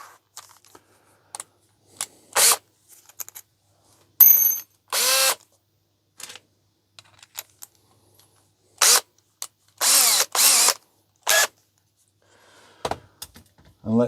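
A power drill with a screwdriver bit whirs in short bursts, driving screws while installing a can crusher, with pauses of clicks and handling noise between each run.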